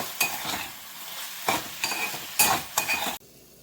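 Ridge gourd and peanuts fry in a pan and get stirred: a steady sizzle broken by several sharp scrapes and clinks of a spoon against the pan, close up, then the sizzle cuts off abruptly near the end.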